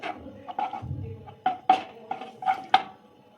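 Metal spoon stirring and scraping oil and ghee in a cooking pan, a series of sharp clinks and scrapes about every half second, close and fairly quiet.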